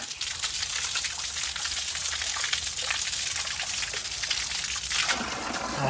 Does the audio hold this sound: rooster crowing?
no